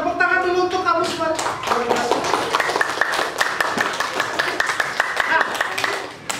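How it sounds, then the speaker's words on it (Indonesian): A classroom of students clapping for a few seconds, scattered hand claps mixed with children's voices and chatter, fairly close and moderately loud. "Tepuk tangan dulu untuk kamu semua"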